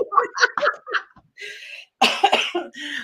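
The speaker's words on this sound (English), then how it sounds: "I'm coughing here, folks." A woman gives a run of several harsh, close coughs, repeated in bursts with short gaps between them and no speech.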